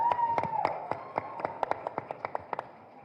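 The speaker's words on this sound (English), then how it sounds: "Let's welcome with a big round of applause a charming actor" Audience applause welcoming actor Madhavan at a film trailer launch event, heard as scattered claps and taps that thin out into a sparse, irregular patter over a steady background hum.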